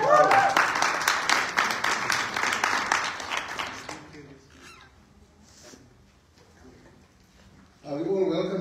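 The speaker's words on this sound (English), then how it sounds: "Let's give them a round of applause." Church congregation gives a round of applause for a welcomed family, loud clapping for about four seconds that dies away into quiet, followed by a voice speaking at the end.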